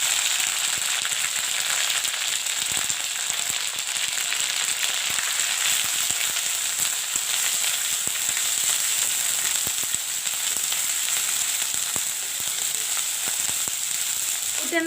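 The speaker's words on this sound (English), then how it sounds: "Put in the ginger garlic paste." Ginger garlic paste sizzles in a hot pan, a continuous dense crackling fry that stays loud and even throughout with no talking.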